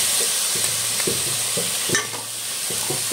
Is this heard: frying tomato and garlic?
yes